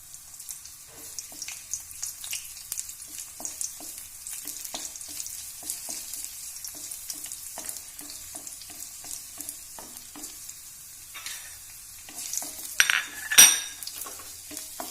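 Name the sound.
raisins frying in a pan for Kerala uppumavu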